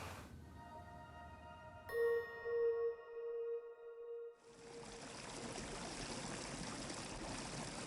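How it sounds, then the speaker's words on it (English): Bubbles forming in liquid give a few clear ringing plinks and short tonal chirps, followed by a steady fizzing, bubbling wash, all fairly quiet and with no talk. "all of these sounds are the sounds of bubbles being made"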